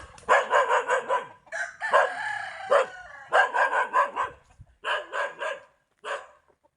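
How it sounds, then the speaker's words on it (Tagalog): A dog at a farm house barks in rapid repeated volleys, loud and close, with short pauses between bursts and a few yelping notes mixed in. "Dog."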